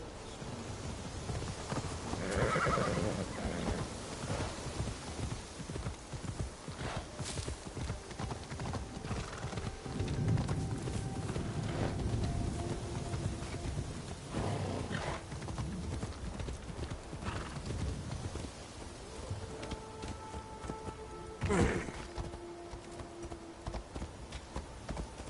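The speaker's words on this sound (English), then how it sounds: "The horse can't even climb the hill." Horse hooves clip-clop steadily across open ground in Assassin's Creed Shadows, with a whinny rising partway through, set against continuous outdoor game ambience at moderate level.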